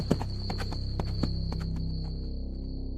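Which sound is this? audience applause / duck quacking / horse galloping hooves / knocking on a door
horse galloping hooves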